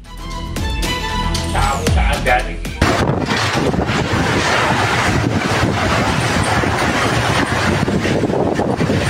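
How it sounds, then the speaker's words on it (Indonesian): Strong gusting wind during an afternoon storm with heavy rain, a steady broadband roar buffeting the microphone, loud and continuous after a brief burst of other sound at the start. "Bencana angin kencang terjadi sekitar jam 3 Kamis sore"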